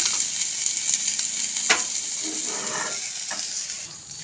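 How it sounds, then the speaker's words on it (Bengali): Ridge gourd peel frying in oil and a little water, the water nearly boiled off, giving a steady close sizzle with a few sharper crackles and stirring scrapes, no voices. "তেলে জলে চোকলাটা ভাজা আর সেদ্ধ দুটোই হয়ে গেছে"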